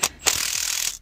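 Ratchet wrench clicking as it undoes 13 mm fuel rail bolts on a DAF CF truck, a short burst of rapid ratcheting clicks up close, with a brief tap at the start.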